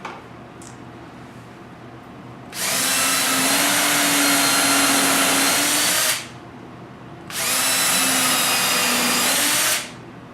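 A power drill whirs in two steady bursts of about three and a half seconds each, pre-drilling a hole, loud and close, with a quiet pause between them.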